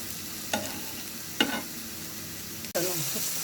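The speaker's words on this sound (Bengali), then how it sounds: "পাশাপাশি আমার আলু ভাজিটাও খুব ভালোভাবে মশলা করে ভেজে নিচ্ছি" Spiced potatoes frying in a pan on the stove, a steady sizzle broken by three sharp utensil scrapes as they are stirred, close and fairly loud.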